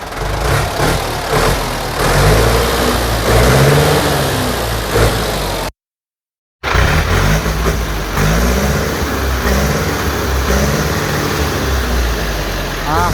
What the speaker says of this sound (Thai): เอาลุงเบิ้ลเครื่องมาฟังเสียงหน่อย เดี๋ยวเบิ้ลเครื่องฟังเสียงนะครับ